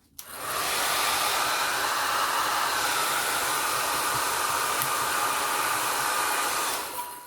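A hair dryer blows steadily and loudly onto alcohol ink artwork for about seven seconds. The airflow is a continuous broadband whoosh that starts abruptly and cuts off at the end.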